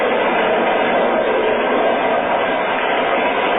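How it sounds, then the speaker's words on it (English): A train runs fast on open track at night, heard as a loud, steady, unbroken rumbling roar with no distinct clacks, filling the whole stretch at close range. "We're running at 60 miles an hour on open track in the dead of night."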